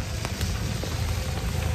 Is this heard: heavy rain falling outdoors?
yes